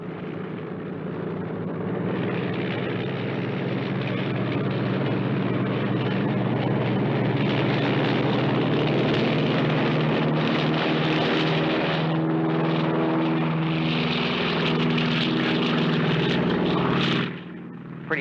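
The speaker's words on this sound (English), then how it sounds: "Pretty sloppy takeoff." A propeller airplane takes off from a runway, its engine droning loud and close as it builds and rises in pitch, sustained for most of the span before cutting off abruptly near the end.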